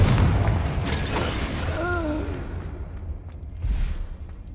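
Confringo spell blast in the game Hogwarts Legacy, a muffled boom with a rushing burst and brief tonal whine, loud at first then fading into a quieter game backdrop.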